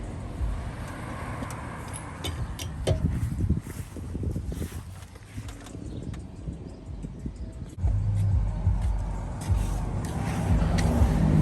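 Steady engine rumble and road noise from inside a moving Audi with worn wheel bearings, with wind buffeting and occasional bumps, no talking.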